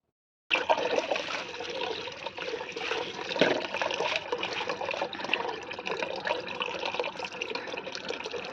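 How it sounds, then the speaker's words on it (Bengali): Cabbage is washed under running water for a rooftop village cooking session. A steady, gushing splash of water starts abruptly and flows continuously nearby, with no talking. "তো এবার বাঁধাকপিটা ধুয়ে নেব।"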